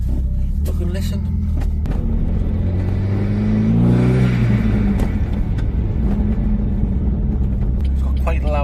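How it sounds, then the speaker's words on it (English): A Renault Megane R26 with a loud exhaust rumbles at close range, swelling through a rising rev in the middle before settling back to a deep idle. "It's got quite a loud exhaust."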